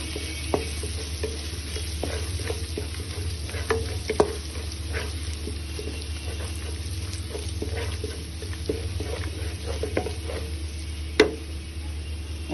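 Two grated garlic cloves fry in a pan for a chicken biryani, giving a steady sizzle with soft scattered crackles and a few sharp clicks from stirring, alone without talk.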